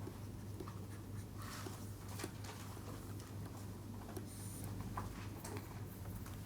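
Pen or chalk writing during a mass-balance calculation, faint scratchy strokes and taps in short irregular bursts over a low steady room hum, with no voice.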